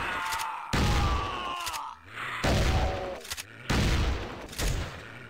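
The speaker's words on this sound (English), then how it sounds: "We got the super shotgun now." Super shotgun blasts in Doom 2 ring out as four loud, booming shots spaced roughly a second apart, each followed by a mechanical reload clack and growling monster noises.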